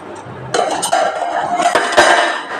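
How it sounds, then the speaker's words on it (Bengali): A lid goes onto a cooking pot of young elephant foot yam with a few close metallic clanks and clinks, then a short rattle as it settles. "এবার আমি ঢাকা দিয়ে দিলাম, ঢেকে রেখে রান্না করব মিনিট 10।"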